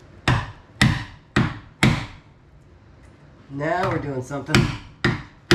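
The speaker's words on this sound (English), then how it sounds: "we're gonna resort to sledgehammer and piece of wood, see if we can do a better job of flattening that out" Sledgehammer blows on a piece of wood laid over metal during a pinch weld mod on a Jeep Commander: four sharp, evenly spaced heavy thuds, a pause with someone speaking, then two more hard strikes, all close and loud.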